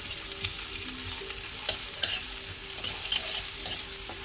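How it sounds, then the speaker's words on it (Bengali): Onions frying in a pan on a home stove, a soft continuous sizzle with occasional stirring scrapes and no talking. "পেঁয়াজটা ভাজা বসিয়ে দিয়েছি"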